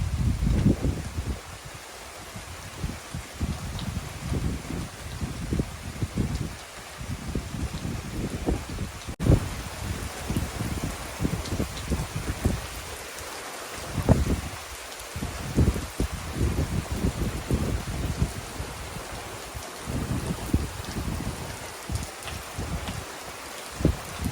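Steady rain pours down in a dense, continuous patter, with occasional louder splashes and drips close by and no voices.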